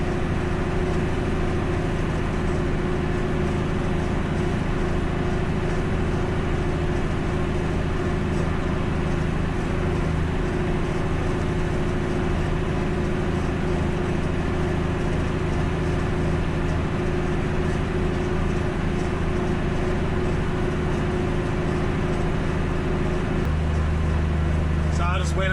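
A John Deere 6310 tractor cutting triticale for hay gives a steady, continuous low engine drone with a strong rumbling bass, constant and close throughout, with a slight shift near the end.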